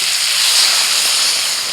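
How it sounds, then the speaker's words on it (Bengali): Water poured into a hot pan of mustard paste with ginger and green chilies, giving a loud, steady, breathy sizzle and hiss that swells slightly and holds for under two seconds. "একটু নাড়াচাড়া করে এবার জল দিয়ে দিচ্ছি"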